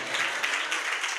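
A church congregation at a Telugu sermon claps in a short burst, a dense, moderately faint patter of many hands lasting about a second.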